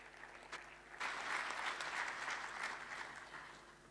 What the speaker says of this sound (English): Ladies and gentlemen, can we have a round of applause?